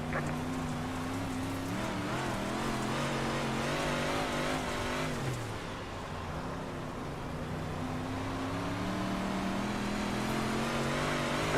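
Sprint cars and big block modifieds at Lernerville charging off at a race start, a dense pack of loud roaring engines revving and climbing in pitch, continuous and close.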